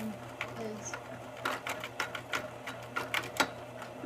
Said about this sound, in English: See, look how bad the house sewing machine is.